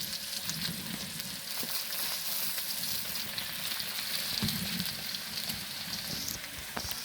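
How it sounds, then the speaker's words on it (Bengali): Onion frying in a pan with spices, a steady close sizzle that runs throughout, with occasional scrapes and stirring noises. "দেখেন পেঁয়াজটা কিন্তু হালকা ভাজা হয়ে গেছে।"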